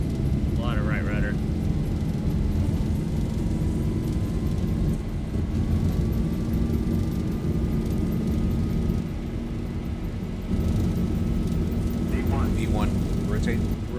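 Jet airliner engines spooling on a windy takeoff roll in the X-Plane 12 flight simulator, a steady loud drone with a rising whine holding throughout, with a pilot voice talking over it.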